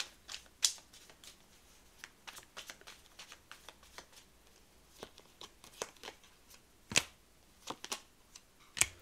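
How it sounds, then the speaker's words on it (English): Crisp riffling and snapping of tarot cards being shuffled, in irregular bursts with a few sharper clicks, close by and fairly quiet. "I'm 2 for 2 on the terrible shuffling today."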